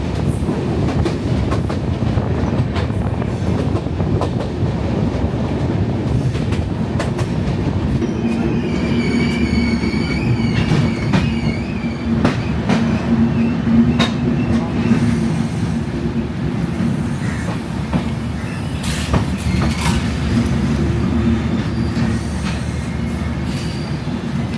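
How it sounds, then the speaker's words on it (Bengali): The Maitree Express passenger train runs between Dhaka and Kolkata, giving a constant loud rumble with rhythmic wheel clatter on the rails and a brief high squeal midway, heard from on board. "আমাদের ট্রেন পার করে গেল চুয়াডাঙ্গা স্টেশন"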